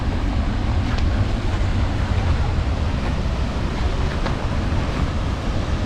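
Maruia Waterfall in New Zealand, formed by an earthquake, pours as a steady, broad roaring rush of falling water close by, mixed with gusty wind buffeting the microphone and no break in the noise.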